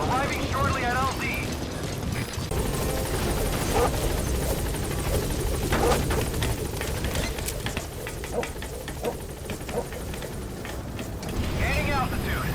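Military helicopter in Metal Gear Solid V approaching a landing zone, a steady broadband rotor and engine roar filling the whole clip with faint mechanical clanks and brief radio-style voices over it.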